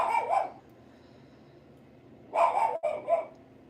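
A small female dog barks indoors while looking out the front door, giving a short burst of barks, a long quiet stretch, then a second cluster of sharp barks at close range.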